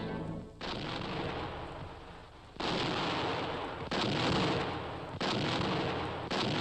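Several loud booming ceremonial black powder gun salute shots on Christmas Eve in a German-speaking region, each blast followed by a long rumbling echo, spaced a second or two apart outdoors.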